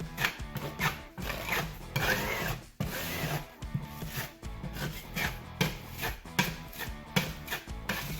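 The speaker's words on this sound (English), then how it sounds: "So use your joint knife, take the material and apply onto the aluminum sheet that you just stuck." A joint knife scrapes spackle across an aluminum patch over a drywall hole, close, loud rasping and smearing strokes in irregular bursts separated by brief pauses.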